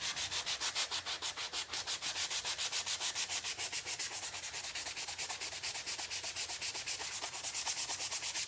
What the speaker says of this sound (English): really light sanding it just to kind of give it that distressed look